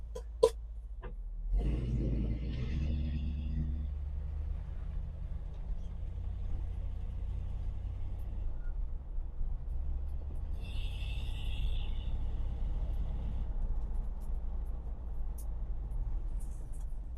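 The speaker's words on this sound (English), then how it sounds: "So let's go ahead and put it on the road and just see what we got." Car driven on the road after a radiator flush with Blue Devil 3-in-1, a steady low engine and road rumble heard from inside, with a few faint clicks and brief higher whines.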